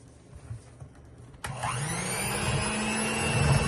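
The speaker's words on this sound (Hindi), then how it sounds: "30 सेकंड्स के लिए हमने एग्स बीट कर लिए हैं।" Electric hand beater whipping two eggs with half a cup of sugar and vanilla essence in a bowl, starting abruptly with a sharp whine that then settles into a loud, steady motorized whir, close and alone.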